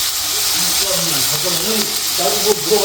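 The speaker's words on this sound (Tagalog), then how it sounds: "ginisa ko lang yung mga ingredients natin" Ingredients for kulitis, native spinach, sauté in a pan with a loud, steady sizzling hiss while someone talks over it.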